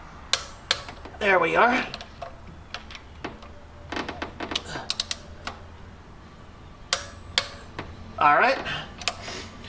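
A torque wrench clicks while tightening EGR valve bolts on an Isuzu Trooper/Rodeo 3.5, sharp metallic ticks scattered between ratcheting sounds close up, with someone talking briefly.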